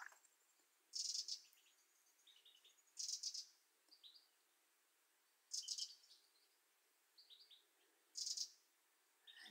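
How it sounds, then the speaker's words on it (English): Birds sing in a quiet morning setting, bright chirping phrases repeating roughly every two to three seconds with softer calls in between, distant and clear over near silence. "with the accompaniment of the bird song until you're ready to open your eyes and begin your day"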